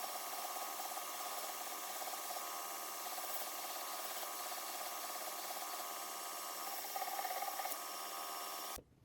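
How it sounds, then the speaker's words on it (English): A belt grinder cleans up the edges of a stitched leather sheath for a twist Damascus Bowie knife, giving a loud, steady abrasive whir that runs unbroken for about nine seconds before cutting off abruptly. "I use the belt grinder and clean up the edges of the sheath."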